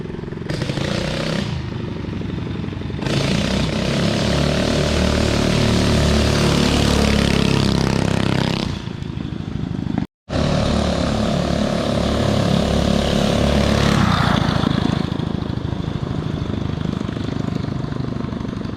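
A minibike with a Predator 212 engine blasts past in repeated drive-by passes, its loud buzzing engine swelling close then fading, with a brief cutout midway, no talk.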